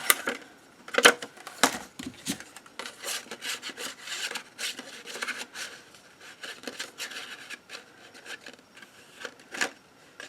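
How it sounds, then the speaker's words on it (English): A hand-held circle punch works through paper in a run of short rasping, scraping crunches of uneven rhythm, loudest at the start and then tapering into smaller bursts, close by with no speech. "I happen to have a larger circle punch, and let's see if I can cut this out."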